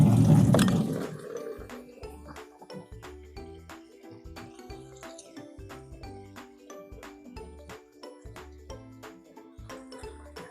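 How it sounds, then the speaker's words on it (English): Water runs from a tap into a container, starting with a brief gush and then settling into a rhythmic pattern of splashes and tonal trickling as it fills, heard close and fairly quiet. "Just gonna go get some water."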